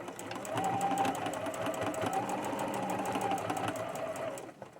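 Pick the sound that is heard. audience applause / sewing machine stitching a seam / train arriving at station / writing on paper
sewing machine stitching a seam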